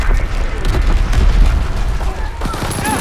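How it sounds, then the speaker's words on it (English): Loud mortar explosions and gunfire boom in a World War II video game battle, with dense rumbling blasts and crackling shots layered over one another, a voice talking faintly beneath the din. "Enemy mortar fire incoming"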